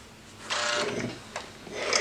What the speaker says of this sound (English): take them to the sewing machine, sew down that long edge